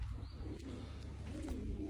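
A few pigeons perched on a rooftop give faint, low cooing phrases, distant and quiet under steady outdoor background noise.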